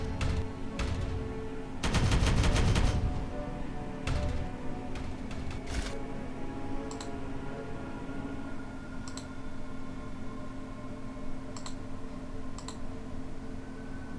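Gunfire in the strategy video game Regicide: a dense burst of rapid shots around two seconds in, with scattered single clicks and reports before and after over a steady game background hum.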